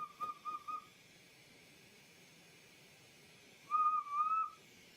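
Two high, thin whistling tones from hot blown glass sound alone against a quiet background, one short and wavering at the start and a longer one near the end.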